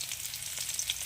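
Onions frying in a pan, a steady soft sizzle and crackle heard alone and fairly faint.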